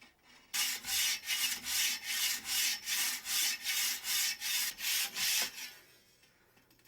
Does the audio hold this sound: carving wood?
yes